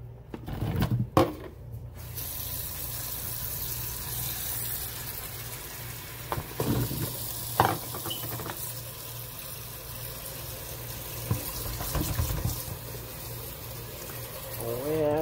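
Tap water running steadily while fruit is washed in a kitchen, a continuous moderate hiss with a few clatters and bumps, and voices briefly in the background.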